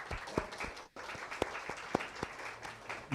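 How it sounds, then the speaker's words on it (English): An audience at a conference breaks into sustained applause, a dense continuous clatter of many hands with a brief dip partway through before the clapping picks up again. "they deserve a big round of applause"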